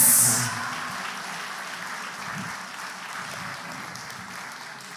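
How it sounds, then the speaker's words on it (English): Sustained applause from an event crowd for a prize winner at a live tech challenge, a dense, even wash of many clapping hands heard at a distance for several seconds, with no voices over it. "And big applause for Maya."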